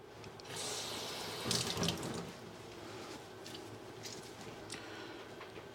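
A tap runs water onto a polishing cloth used to clean a chalice in a friary sacristy. The water makes a steady splashing wash that is louder at first and then settles to a soft, continuous trickle.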